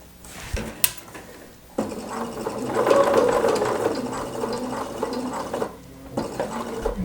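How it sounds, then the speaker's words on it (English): Sewing machine fitted with an even feed foot stitching a fabric napkin, a steady close mechanical whir with clicking that runs continuously for several seconds before pausing briefly. "And we're just going to start sewing. I'm using my even feed foot back here."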